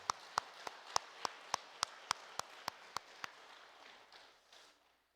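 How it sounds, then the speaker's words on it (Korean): Congregation at a Sunday church worship service clapping to welcome members: about a dozen evenly spaced, faint claps in a steady rhythm, then trailing off into quiet room noise. "우리 박수로 환영하도록 하겠습니다"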